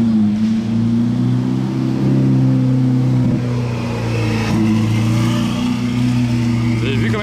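A LaFerrari supercar engine idles along at low speed pulling away from a hotel, a steady, fairly loud low drone with subtle pitch swells, heard close throughout.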